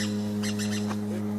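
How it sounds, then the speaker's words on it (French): Birds in the Amazon rainforest give a few short squawking calls over a steady hum of background noise, the calls fairly close and brief as they fly off. "Les oiseaux? Ils nous observent et ils nous parlent. Regarde, ils s'en vont."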